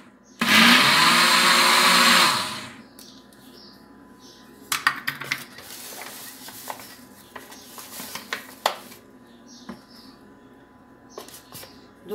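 Electric mixer beating pineapple cake batter, loud and steady for about two seconds before stopping, followed by scattered clatter and light tapping of utensils in a quiet kitchen.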